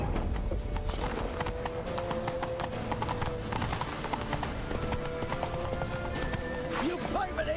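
In a video game, a horse gallops with rapid, rhythmic clip-clop hoofbeats, with an occasional whinny, while a player talks over the action and game voices are heard.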